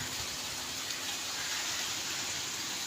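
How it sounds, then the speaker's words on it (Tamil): Steady, dense rain falling outdoors in Attur in the evening, a constant close hiss without pauses or other sounds throughout. "மழை பெய்யுதுங்க"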